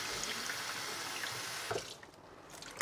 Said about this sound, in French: tant que ça mousse, je rince